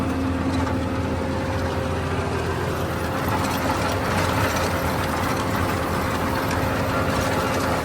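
A heavy tractor engine, a turbo 855 pulling a plough, idles steadily with a low, continuous rumble, unbroken and fairly loud, with no voices over it.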